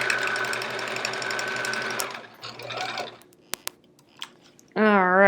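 A sewing machine runs at full speed for about two seconds, stitching quilt pieces for a chevron quilt with right sides together. The fast whirring then stops and a few clicks and handling sounds follow before a voice starts speaking.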